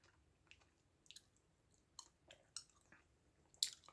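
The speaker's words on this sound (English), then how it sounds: "Chew my gum a little bit" Gum being chewed close to the mic, with soft wet clicks and squishes spaced irregularly through a quiet room and one sharper click near the end.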